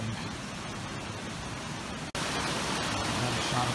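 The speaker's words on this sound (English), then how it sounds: "You can hear the water flowing." Waterfall in the waterfall garden section of a botanic garden: a continuous broadband rush of falling water, fairly loud and steady, briefly cutting out midway before returning slightly fuller.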